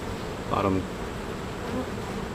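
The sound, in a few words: honeybees buzzing around hive frames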